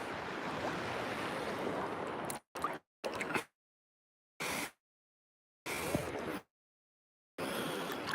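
Gulf of Mexico surf rolls and washes on a Florida shore in steady bursts with wind buffeting the microphone, broken up by several abrupt silent gaps.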